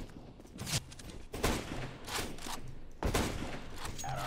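Several sharp bursts of gunfire in the video game CS:GO crack out at irregular intervals over a busy background, each shot broad and punchy, moderately loud.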